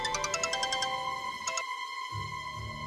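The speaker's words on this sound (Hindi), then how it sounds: "केशव जी का फोन" A phone rings indoors with a quick run of repeated electronic tones, then a short second burst, followed by a brief silence and low room noise.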